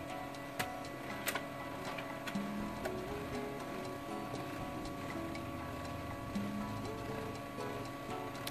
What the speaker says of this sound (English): I hit print.